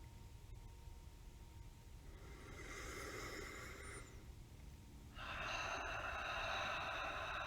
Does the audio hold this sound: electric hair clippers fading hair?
no